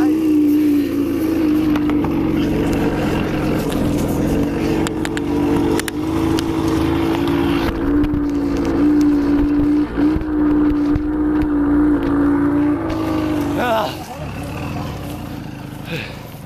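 A vehicle engine running at a steady high drone, held nearly constant near by before dropping off toward the end, with people talking over it.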